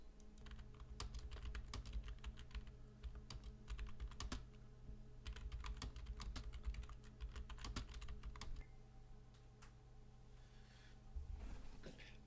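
Someone types on a computer keyboard, quiet clustered clicks in irregular bursts with brief pauses, close and alone over a faint steady background hum.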